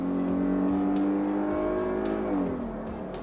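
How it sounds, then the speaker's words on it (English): A car with a 3.6 liter engine revs and accelerates, its loud, steady engine tone climbing in pitch and then dropping as it shifts, close by with no talking. "Hey, Matt, why don't you give it a little bit of gas real quick?"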